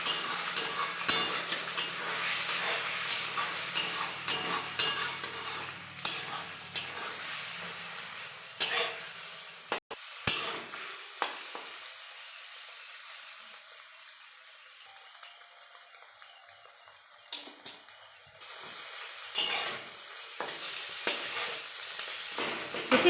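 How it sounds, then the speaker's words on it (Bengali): Beaten eggs fry in oil in a pan for a chow mein egg roll, a strong crackling sizzle with repeated spatula scrapes and clinks that fades to a quieter hiss midway and swells again toward the end. "আমি এই ডিমটাকে তেলের উপরে ভেজে নেব।"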